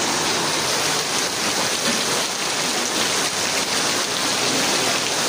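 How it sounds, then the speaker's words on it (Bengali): Heavy rain pours down beside a tea stall at a market in a dense, constant roar of drops, loud and unbroken throughout with no voices. "ঝুম বৃষ্টি হচ্ছে,"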